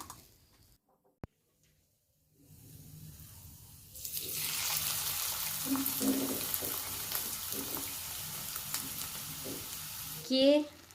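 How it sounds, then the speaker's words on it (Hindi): Spices sizzle and crackle loudly in hot ghee for a tempering poured into halwa after a quiet start, a steady frying hiss with a brief stir-like clatter near the end. "तो ये इसमें मैं लगाती हूँ तड़का।"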